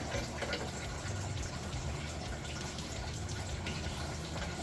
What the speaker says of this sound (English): Just all of a sudden just started dumping more coolant.